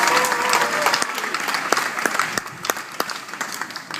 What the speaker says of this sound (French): on applaudit le Niger